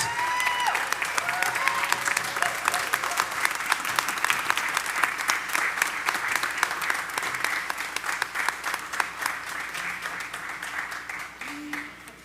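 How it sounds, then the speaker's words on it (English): Sustained audience applause at a 4th of July concert in San Angelo, honoring military veterans, with dense, even clapping from a large crowd that carries on for the whole stretch and slowly eases off near the end. "Let's ask all of our military or former military to stand together so we can give you one more round of applause."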